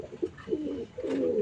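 Young pigeon squabs in a cage coo softly and repeatedly, close by, in low throaty bursts.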